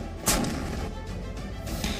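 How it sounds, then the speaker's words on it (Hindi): A warship fires artillery over water during a winter military exercise, a sharp loud blast followed by rumbling echo and a second, softer report near the end. "पानी में युद्धपोत से अग्नि वर्षा की जा रही है"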